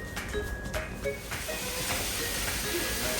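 Onions cooking in a hot pan, a loud continuous steamy hiss and sizzle with a few faint squeaky tones early on, no talk.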